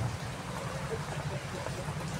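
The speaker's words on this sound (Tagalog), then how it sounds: "ang lakas ng ulan" Heavy rain pours steadily outdoors at night, a dense, even hiss of falling water with low rumbling underneath, faint and continuous.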